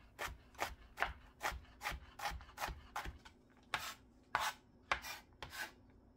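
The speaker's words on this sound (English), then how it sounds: "As usual, we want to peel the onion, and this time, let's dice." An onion being diced with a knife on a cutting board, a quick, fairly even run of about fifteen close chops and knocks, moderately quiet with no voices.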